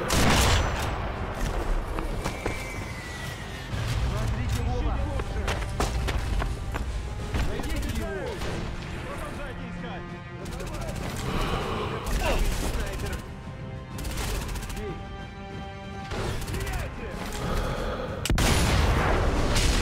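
Gunfire crackles through a Sniper Elite V2 street battle, with repeated loud shots and bursts fired in rapid volleys over twenty seconds, mixed with booms and game sounds while someone talks over it.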